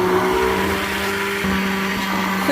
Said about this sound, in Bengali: আমি ব্লেন্ড করে নেব এটাকে।